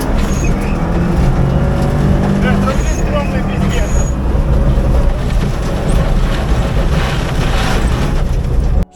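A Lada Kalina car engine roars loudly and steadily on a first test, revving hard throughout with voices faintly mixed in.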